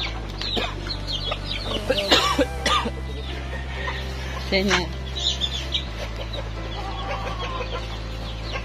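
Chickens cluck close by in a yard while people talk and cough over a steady low hum, the clucks scattered between the voices.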